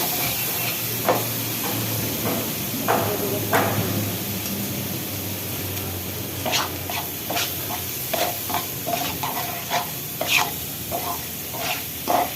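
Fish masala with turmeric and chili powder frying in a pan: a steady close sizzle and hiss with repeated stirring scrapes and clicks throughout, no speech.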